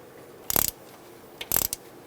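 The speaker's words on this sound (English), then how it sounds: "and tighten these bolts down" A ratchet snugs bolts on the EGR tube of a 1999-2006 Chevrolet Silverado 1500, two quick close bursts of rapid clicking about a second apart, with a short click between them.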